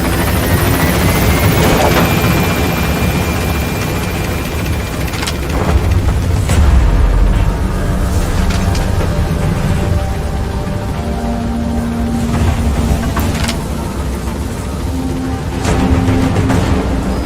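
The Pequod helicopter in the video game Metal Gear Solid V: The Phantom Pain, a loud, continuous rotor thrum and engine whine with occasional sharp game impacts layered over it.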